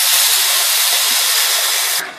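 Beef stock poured into a pan of hot coriander masala for a Kerala beef curry gives a loud, steady steaming hiss that runs unbroken for about two seconds, then drops off sharply near the end.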